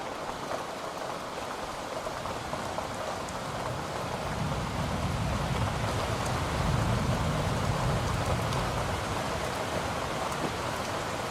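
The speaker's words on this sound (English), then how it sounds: "this Brooklyn rain, this city rain right here, and then definitely this thunder rain ambiance" Steady heavy city rain, layered Brooklyn street rain with a thunder-rain ambience, a dense continuous wash with deep rumbling swelling in the low end midway through, no voices.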